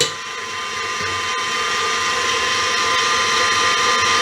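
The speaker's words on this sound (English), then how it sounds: "So I'm whisking this on a fairly high speed" An electric mixer whisks a chocolate cheesecake mixture at high speed, a continuous steady whirring hum with a bright motor whine that holds evenly throughout, close and moderately loud.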